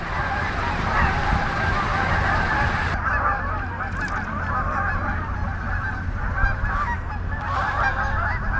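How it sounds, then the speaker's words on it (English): A flock of Canada geese honking loudly and continuously, many overlapping calls from nearby, with steady background noise underneath. "sorry you guys have to listen to the honking from all those geese"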